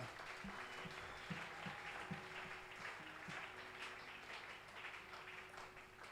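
Audience at a church Bible seminary applauding, a faint continuous wash of clapping throughout, distant and steady, with a few low murmurs beneath.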